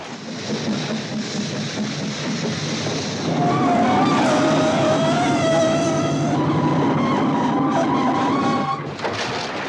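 A train brakes to a stop on the track, where tires have been piled across the rails, giving a loud, drawn-out metallic screech with shifting squealing tones over a rumbling base before it cuts off.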